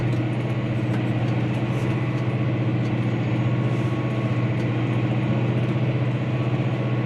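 A Massey Ferguson 5S 145 tractor engine runs steadily with a deep, even, throbbing drone while working a subsoiler, loud and continuous throughout.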